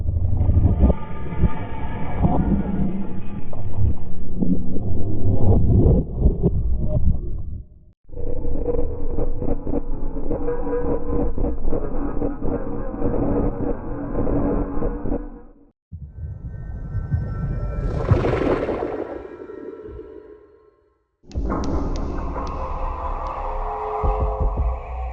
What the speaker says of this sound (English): There are 4 new cave noises as well that I haven't actually listened to